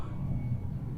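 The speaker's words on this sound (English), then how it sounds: "we still have planes flying over us." Airplane flying overhead, a low steady engine drone that stays even and moderately distant throughout, with no talking.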